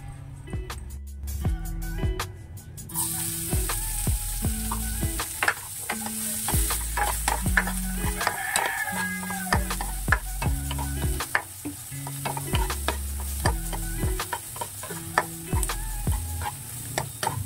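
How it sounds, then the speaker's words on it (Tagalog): Oil heating in a hot wok, sizzling and frying steadily with a constant hiss, close and fairly loud, with clinks and stirring knocks scattered throughout. "mainit na ang ating wok at ilalagay naman natin ang ating oil"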